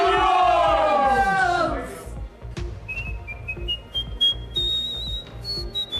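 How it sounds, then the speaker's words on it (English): A man at a football ground before a Leyton Orient versus Manchester City FA Cup tie whistles a loud, clear, rising melody close up. Crowd noise and brief talk sit underneath. "this man has been given special permission to whistle inside a place where only 3 people have been allowed to whistle before"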